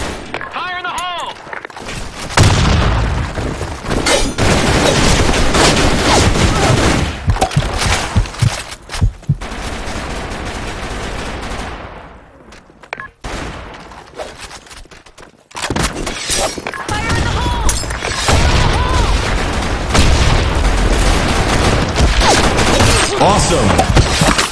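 Grenade blasts and gunfire in a shooter video game's capture-the-flag match, loud bursts of explosions and shattering noise packed densely, with a few brief gaps and voice callouts mixed in.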